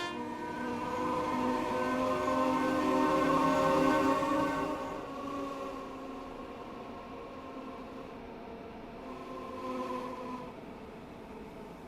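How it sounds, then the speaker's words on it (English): Class 325 Royal Mail electric multiple unit trains exiting Giles Mount in a train simulator, a sustained tonal horn-like whine over rolling rail noise that fades after a few seconds. "325015, as well as an unidentified 325, is seen here exiting Giles Mount."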